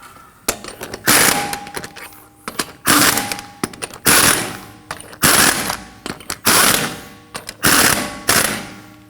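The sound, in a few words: tightening wheel nuts in a star pattern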